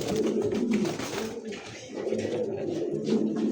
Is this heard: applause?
no